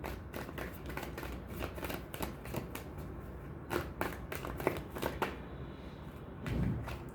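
Tarot cards shuffled by hand, a dense run of quick papery riffles and flicks close up, continuing without pause and then settling briefly near the end.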